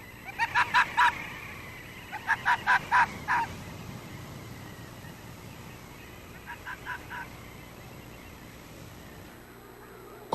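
Snow geese on the Arctic tundra honk in three separate clusters of rapid calls, the first two fairly clear and the last fainter. The calls stand out over a quiet, breezy background with no voices.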